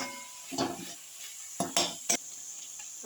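Spices sautéing in a pan, a soft low sizzle punctuated by a few sharp metallic scrapes and clinks of a spoon against the pan, close and with no talking.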